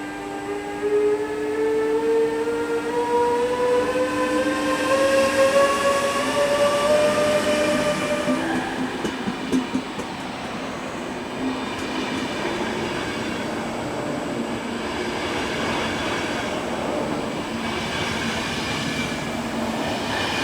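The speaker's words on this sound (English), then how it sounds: "48024 restarts this service bound for Vienna." Train bound for Vienna pulling out of a Budapest station, a rising electric motor whine climbing in pitch over the first eight seconds, followed by a steady rolling rumble with wheel noise, heard close and loud with no talking.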